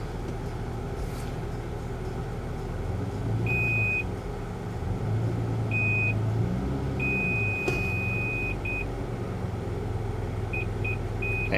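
Reverse parking sensor of a car sounds a series of electronic beeps, short ones at first and then a long steady tone with a few quick chirps, loud over a low idling engine rumble inside the cabin.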